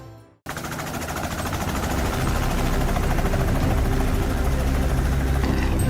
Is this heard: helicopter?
yes